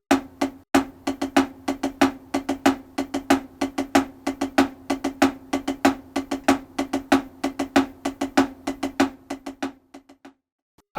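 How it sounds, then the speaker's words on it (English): Snare drum plays double stroke roll fill-ins, a steady stream of crisp, close strokes in a driving rhythm for about ten seconds before stopping, with no talking. "Now to get double stroke roll fill-ins around this"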